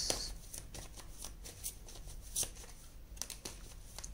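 Tarot cards riffle and slap as a deck is shuffled and cards are drawn, close and crisp, with a rapid papery flutter and sharp snaps lasting a few seconds.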